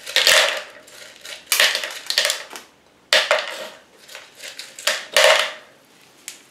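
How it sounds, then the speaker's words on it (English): Pebbles poured and dropped into a plant pot while repotting a Zygopetalum Blue Tozy orchid, bursts of close clattering and rattling stones with short pauses between handfuls. "This is another pot where I try to put in the pebbles"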